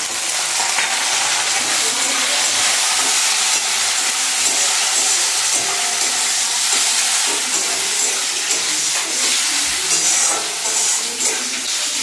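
Chopped small red tomatoes land in onions already frying in a pan for a fish curry, giving a loud, steady sizzle with scattered stirring clatter throughout.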